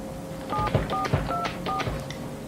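A telephone number is dialled on a phone with a quick series of tone beeps, four or five evenly spaced, over a low background hum and faint rustling.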